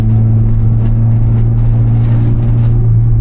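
Steady interior road noise from a 2019 Mazda MX-5 ND Miata while driving, a constant low engine drone and tyre rumble with a strong low hum throughout, even and unbroken, no voices.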